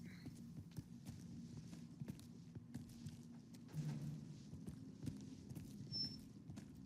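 A dead horse in the S.T.A.L.K.E.R. 2 video game keeps playing faint clip-clop hoof sounds, with quiet scattered taps over a low droning background ambience.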